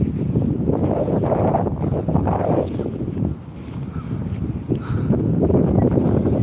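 Steady wind roars and buffets close up on a wet, wintry evening outdoors, a rough rushing noise that swells and dips over several seconds with no voices.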